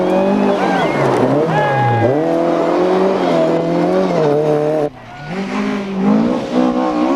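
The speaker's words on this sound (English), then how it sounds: "But Walter Dick is hard to miss as he gyrates his shocking pink Escort." A shocking pink Ford Escort rally car slides through a junction on a rally stage, its engine revving hard with rising and falling pitch, loud and close, then dipping briefly before climbing again.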